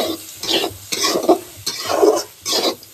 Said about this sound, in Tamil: சட்னி இங்கே வதக்கிக்கிட்டு இருக்கேன்.